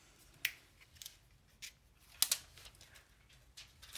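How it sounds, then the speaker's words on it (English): Stickers being peeled off an Apeman A77 action camera's waterproof case, a few sharp crackling rips and plastic ticks spaced irregularly, close and fairly faint, no talking. "let's go ahead and just start peeling off some of these stickers"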